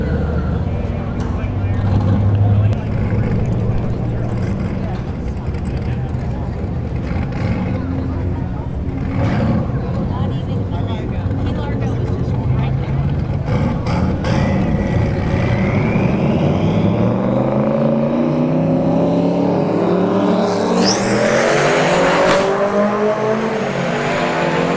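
A Subaru STI and a turbocharged fifth-generation Camaro SS drag race at Bradenton Motorsports Park, with loud engine roar throughout. Revs climb in rising sweeps toward the end, and voices can be heard alongside the engines.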